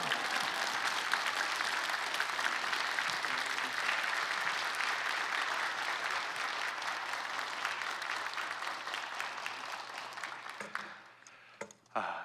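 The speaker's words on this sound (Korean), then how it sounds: "우리 목사님 나오실 때 큰 박수와 할렐루야로 환영하겠습니다" Church congregation at a New Year blessing revival meeting applauds to welcome the pastor, a long steady roar of clapping that gradually tapers off and dies out near the end.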